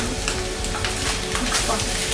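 Chicken fried rice being stirred and fried in a pan in Sri Lankan style, with a steady close sizzle and repeated scraping stirs of the utensil throughout.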